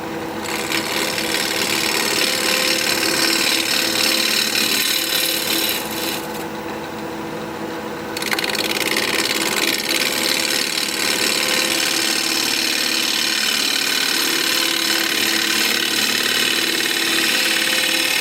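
A wood lathe spins a piece of sea grape wood at about 1100 RPM while a 5/8 inch bowl gouge cuts the underside. There is a steady, close, whirring motor hum with continuous scraping and rasping, briefly easing midway before resuming.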